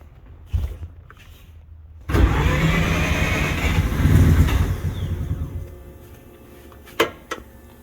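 A 12A turbo rotary engine in a Datsun 1200, being set up on a new Link Monsoon ECU, cranks and fires, then runs loud and rough under throttle before dropping back, with a couple of sharp knocks near the end.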